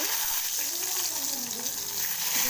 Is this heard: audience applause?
no